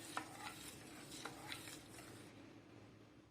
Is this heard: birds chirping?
no